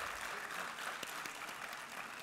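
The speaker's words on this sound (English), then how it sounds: "Can we have a huge round of applause for the speaker" Conference audience at a health leadership session applauds the speaker, a faint, continuous, even patter of many hands clapping, heard from a distance.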